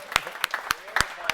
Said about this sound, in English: Let's give a round of applause to Hollywood